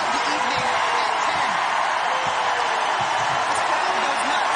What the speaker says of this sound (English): This crowd goes nuts.